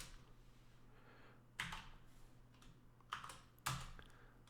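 Quiet keyboard typing in a few bursts of clustered keystrokes separated by pauses, close and soft against a low steady hum.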